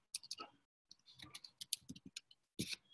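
A computer keyboard is typed on in quick irregular bursts of crisp clicks, close and fairly quiet, with a short pause partway through, during a webinar.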